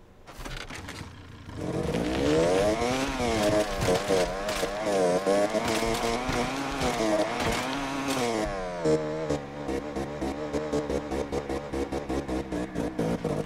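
Motorcycle engine in the video game Generation Zero, a loud continuous whine that rises and falls with revving and throttle changes, running the whole time with brief dips and rough bursts toward the end.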